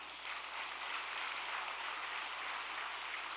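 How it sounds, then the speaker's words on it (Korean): An audience applauds in a dense, even wash of many hands clapping, sustained and fairly quiet throughout, heard alone without talking. "박수 한번 올립시다."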